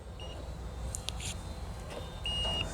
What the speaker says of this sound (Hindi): ये हमने मल्टीमीटर से बीप बजाया है